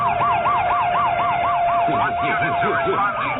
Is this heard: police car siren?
yes